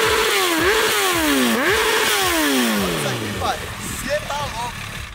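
Honda CBR1000 Repsol sport motorcycle engine revving hard, repeated sweeping rises and drops in pitch as the throttle is blipped, loud and close, then settling toward idle.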